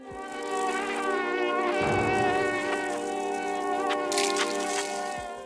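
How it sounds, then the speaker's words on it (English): A hornet-like creature in the side-scrolling game Limbo gives off a steady, close insect buzz that holds for several seconds with a slight swell in the middle, heard alone with no talking. "we discover a hornet-like creature feasting on the corpse of a fallen traveller"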